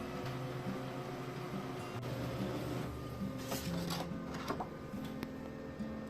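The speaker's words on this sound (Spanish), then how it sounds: "vamos a mandar a imprimir tal cual hicimos con la bandeja normal" A Brother DCP-L2530DW laser printer runs through a page with a steady mechanical hum, clicking feed rollers and shifting motor tones, close and moderately quiet, with a few sharper clicks near the end.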